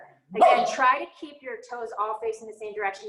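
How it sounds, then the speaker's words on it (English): A dog barks and yips in short bursts somewhere in a room during a yoga class, partly masked by an instructor talking steadily over it. "sorry about the dog"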